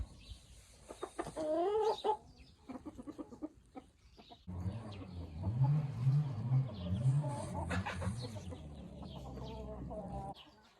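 Several laying hens cluck and murmur close by inside a coop in the evening, soft overlapping calls that swell into a steady, busy chorus.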